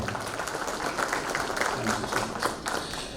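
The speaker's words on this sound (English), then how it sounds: "A big round of applause for each one of you for being here today" Audience at an architecture and interior design event gives a brief round of applause, dense and steady, with a murmur of crowd voices underneath.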